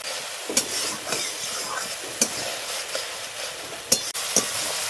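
Salt, turmeric and green chilli spices frying in a pan, a steady soft sizzle with a few sharp stirring scrapes scattered through, close and moderately loud, no voices.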